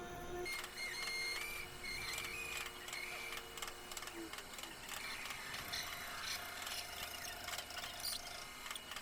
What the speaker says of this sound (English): Slowly move the drill into the piece of aluminum.